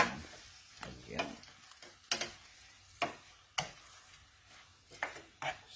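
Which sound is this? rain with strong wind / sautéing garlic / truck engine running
sautéing garlic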